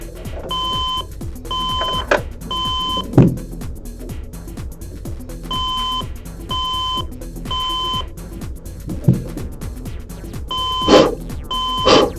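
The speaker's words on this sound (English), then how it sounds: "this thing has an anti-theft alarm" Anti-theft alarm on an unplugged computer sounds after its CPU is removed, repeating in bursts of three sharp, loud electronic beeps separated by short pauses, with clicks and handling noises from the machine underneath.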